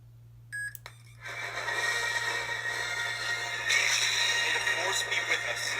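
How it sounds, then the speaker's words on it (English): Lightsaber sound font from an Infinium Norway 2.0 hilt, a short electronic beep after the auxiliary button is held, then a sustained humming tone with a steady low buzz underneath. "You push and hold the auxiliary button till it beeps"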